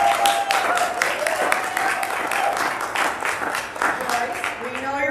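An audience at a live-streamed gathering breaks into sustained applause, dense steady clapping from many hands filling the room, with a voice speaking over it.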